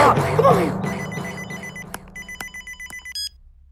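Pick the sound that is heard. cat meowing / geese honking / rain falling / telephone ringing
telephone ringing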